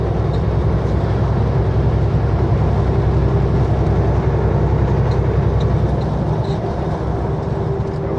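Steady, loud roar of heavy traffic rolling by on a highway beside a campground, a continuous dense rumble with no breaks and no talking.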